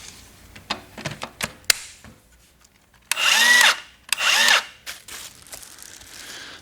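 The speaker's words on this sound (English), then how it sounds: "Saws sound a whole lot different without the blade on it." Milwaukee M18 cordless circular saw run without a blade: a few short clicks and handling knocks, then two bursts of high-pitched motor whine that spin up and wind down, close and loud with nobody speaking.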